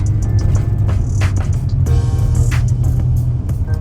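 A home-built truck on its first drive, heard from inside the cab on a country road in the evening, with a steady, loud low engine drone and road rumble throughout and no talking.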